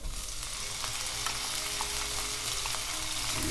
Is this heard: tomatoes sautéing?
yes